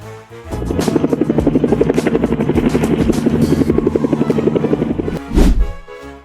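A helicopter hovers close by near an elephant in the wild, its rotor chopping in a loud, steady rapid pulse for several seconds before a brief louder whoosh near the end.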